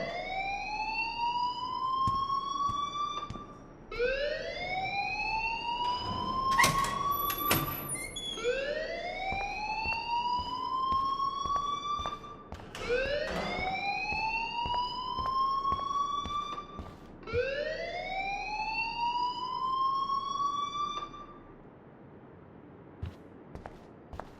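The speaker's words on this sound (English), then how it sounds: "please turn off that alarm since that's your job" A fire alarm wails in the Life Is Strange video game, with loud, repeated rising siren sweeps, about five cycles in steady rhythm. A few brief clicks sound alongside.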